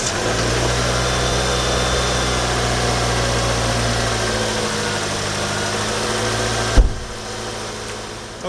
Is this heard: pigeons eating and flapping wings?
no